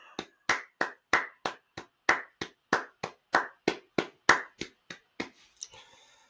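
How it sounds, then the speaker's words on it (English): One person claps alone at close range, about fifteen sharp, separate claps in a steady, slightly uneven rhythm with short silences between them and no talking. "I kind of just want to clap it up for myself here for a second."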